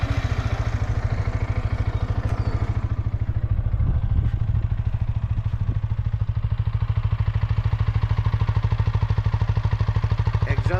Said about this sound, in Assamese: এতিয়া আপোনালোকক এক্সজষ্ট চাউণ্ডটো অলপমান শুনাই দিছোঁ